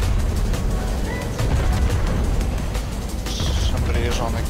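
A naval video game battle fills with dense, continuous booming cannon fire and gunfire, heavy and close, while players talk over the din.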